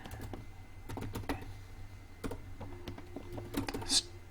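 Python code is typed in PyCharm on a computer keyboard, with irregular close clicks and short bursts of keystrokes, soft and without talking.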